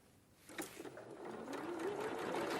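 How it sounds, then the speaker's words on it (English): Sewing machine running steadily while joining pairs of quilt patches, starting after a short pause and building into a continuous close whirring hum that rises slightly toward the end, heard alone. "and leave the needle down, and then my last pair of patches, and sew."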